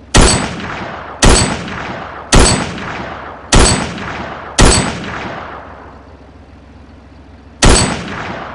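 Gunshots in the farming video game Farming Simulator 22: five loud, sharp reports fire at a steady rhythm about a second apart, each with a decaying tail, then a quiet stretch before one more shot rings out.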